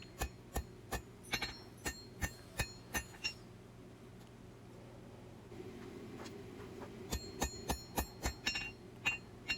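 A hot steel double-edged knife blade, an Arkansas toothpick, hand forged with a hammer: evenly spaced, bright ringing blows close by, a pause in the middle of the clip, then another quick run of strikes.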